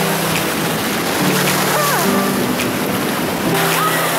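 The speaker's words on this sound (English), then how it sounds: "So the tide's even stronger today, so the waves are a lot stronger." Strong ocean waves crash and wash up on a shore under a strong tide, a loud, dense roar of surf that swells slightly near the end, with no voices heard.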